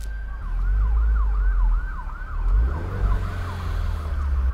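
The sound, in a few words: ambulance siren passing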